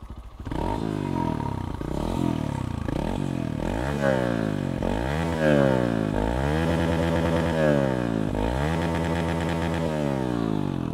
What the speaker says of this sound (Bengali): এই ছিল হচ্ছে মোটামুটি বাইকের এক্সজস্টের সাউন্ড